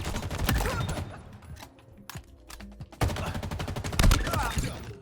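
Rapid bursts of automatic gunfire in a first-person shooter video game, loud and rattling, broken by a brief lull, with a player talking in between.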